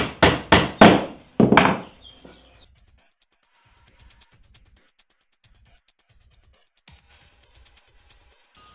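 A hammer drives a nail into wood while an insect hotel is being built: four or five sharp, loud knocks in quick succession, then near silence broken by small, faint ticks and taps.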